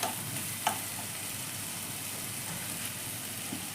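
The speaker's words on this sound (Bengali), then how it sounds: "মশলাটাকে একটু ধৈর্য ধরে খুব সুন্দরভাবে কষাতে হবে" Spice masala being patiently fried down in a pan with occasional splashes of water, giving a steady soft sizzle throughout with a brief clink of stirring near the start and no talking.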